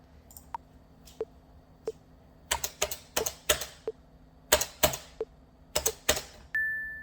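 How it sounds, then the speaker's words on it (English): Computer keyboard keys tapped in time with a rhythm-training exercise: single sharp clicks at first, then tight groups of two and three taps in a steady pattern, close and clear with no talking, ending on a sustained tone. "it's just where you tap your keyboard to the rhythm"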